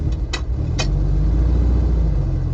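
A car engine hums steadily from inside the cabin, a low constant drone with a couple of brief clicks near the start.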